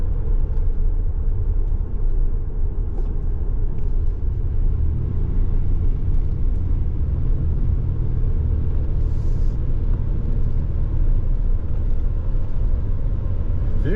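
Car cruising on a road on a winter afternoon, a steady low rumble of road and engine noise continuing evenly throughout without speech.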